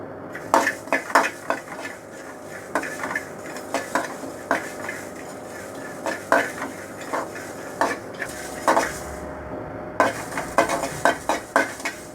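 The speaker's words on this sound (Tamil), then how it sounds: "இப்போ இந்த தேவையான பொருட்கள்லாம் இதில் போட்டு வறுத்து எடுத்துக்கலாம்." Spices roast on low heat in a pan for tamarind rice (puliyodharai), with a soft sizzle under repeated scraping and clinking strokes of a spatula against the metal at an irregular, steady stirring pace.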